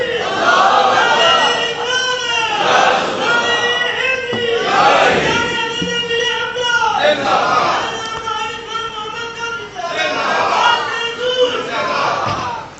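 A crowd at an urs shrine celebration chanting religious slogans in loud, rhythmic call-and-response waves, several voices rising together in repeated bursts.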